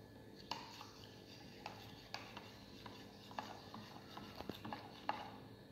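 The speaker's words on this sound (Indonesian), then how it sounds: "Lalu diaduk." Slaked lime being stirred into about 200 ml of water, giving a series of faint, irregular clinks and scrapes of a spoon against a container, spaced roughly every half second to second.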